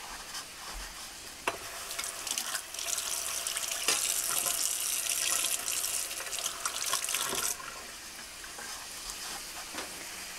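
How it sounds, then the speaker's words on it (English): Tap water runs into a kitchen sink as hands are washed after cutting bacon, a steady close splashing rush that swells in the middle and cuts off abruptly, leaving quieter handling sounds. "I'm going to wash this really quick because I was just cutting bacon."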